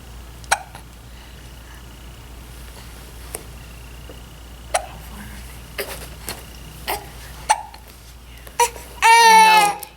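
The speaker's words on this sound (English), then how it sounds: "Yeah, she doesn't like the hiccups." A baby hiccups repeatedly, sharp isolated little catches spaced a second or so apart, close and fairly loud, ending in a brief fussy cry.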